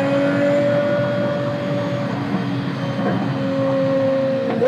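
The engine of a T.33 mule car is held at very high revs, a sustained, loud mechanical whine with a faint wavering in pitch. Continuous, close and without voices.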